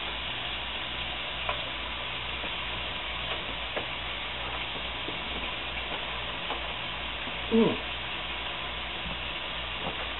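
Beef browns in a pan for fried rice with a steady low sizzle and occasional faint clinks, and one brief louder scrape partway through; no one speaks.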